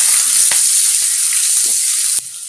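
Onion frying in hot oil with mustard seeds and asafoetida for a horse gram sambar, a loud steady close sizzle with a few light stirring knocks, suddenly quieter near the end.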